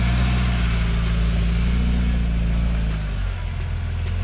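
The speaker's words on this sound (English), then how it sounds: "the Patriot is driving forward after the usual slip" UAZ Patriot SUV pulling forward off-road after a brief wheel slip, a steady low engine drone close by that eases slightly toward the end, with no talking.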